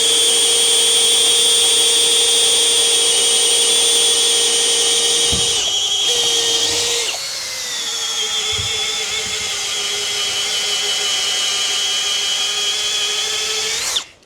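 Milwaukee M12 cordless drill running loud and close, a steady high whine that holds, shifts pitch briefly as the gear changes midway, then runs on before stopping abruptly.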